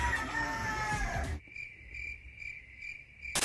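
A rooster crows loudly and close, then gives way to a steady chorus of crickets chirping in a pulsing rhythm.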